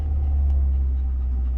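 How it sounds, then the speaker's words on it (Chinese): A car sits stationary with its throttle pressed, its engine holding a steady low rumble that stays constant and fairly loud throughout, with no speech over it. "我在这里轰档踩这个油门"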